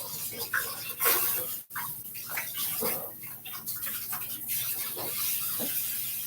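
Tap water running steadily into a container in a homestead kitchen, a continuous close splashing rush with small knocks and clatters mixed in, no voices heard.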